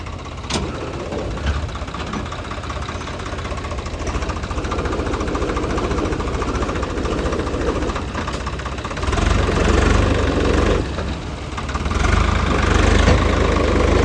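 A tractor engine chugs loudly and steadily as its tyres slip pulling a stuck trolley in a potato field, with a knocking, labouring rumble that grows heavier and rougher toward the end.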